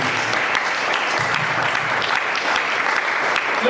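A church congregation bursts into sustained applause during an evangelist's sermon, a dense, even wash of clapping that holds steady at full level throughout with no voices rising above it.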